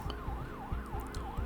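Police sirens from the game Love and Deepspace wail in steady rising-and-falling cycles, loud and continuous over a low rumbling background with faint clatter, with no voices.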